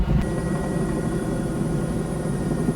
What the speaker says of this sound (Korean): 다음날 아침 날이 밝자 대형 소방 헬기가 출동.